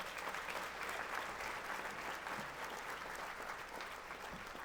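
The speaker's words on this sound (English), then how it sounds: "Let's give Freddie and Giselle another round of applause." An audience at the State of Our Children 2023 event claps steadily, a dense and even wash of applause heard from some distance at low volume, with no voices over it.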